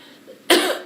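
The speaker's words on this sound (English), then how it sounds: "the mites are making me cough" A single harsh cough bursts out after a quiet stretch, blamed on dust mites irritating the throat; close and loud, with a rough tail fading over about half a second.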